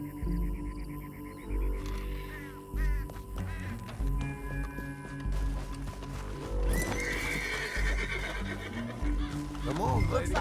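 A horse in Red Dead Redemption 2 gallops with steady clip-clop hoofbeats and lets out loud neighs and whinnies, mixed with other in-game sounds and voices throughout.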